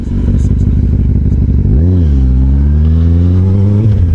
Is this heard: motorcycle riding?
yes